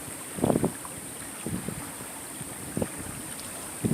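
Wind buffeting a sailboat under way, steady broadband rush with several short gusty bursts hitting the microphone, no voices.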